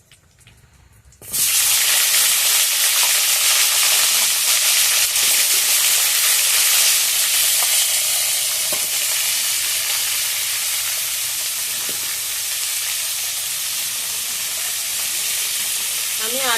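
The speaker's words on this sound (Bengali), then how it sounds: "আমি অর্ধেক অর্ধেক করে ফুলকপিগুলোকে ভেজে নিচ্ছি।" Cauliflower pieces drop into hot oil in a pan with a sudden loud burst of sizzling, then keep up a bright, steady frying hiss that eases only slightly over time, close up and with no talking.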